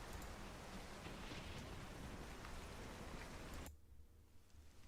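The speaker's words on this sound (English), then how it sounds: "I'll turn off the rain effects." Rain sound effect: a dense, even hiss of falling rain that runs steadily, then abruptly drops to a much quieter wash near the end.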